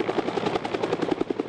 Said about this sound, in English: Choppers circle above.